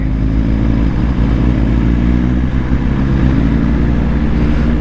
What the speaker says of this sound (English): My bike's loud-ish because I've got no baffle because it kept falling out